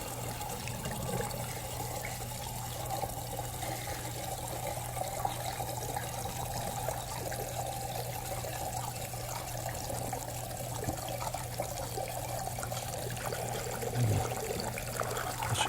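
Water trickles and pours steadily and fairly quietly over a constant low hum, with no voices.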